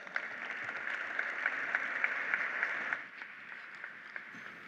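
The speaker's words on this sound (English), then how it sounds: "a quick round of applause for Josh" Audience at a sustainability conference session applauding a speaker, a steady wash of many hands clapping at moderate distance that thins out and fades after about three seconds, no talking.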